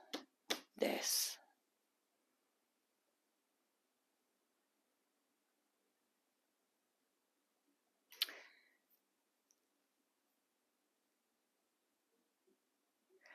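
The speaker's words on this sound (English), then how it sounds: "I'm going to shuffle one more." Tarot cards shuffled in a quick crisp riffle, then a long quiet pause before a second, briefer shuffle, close to the microphone.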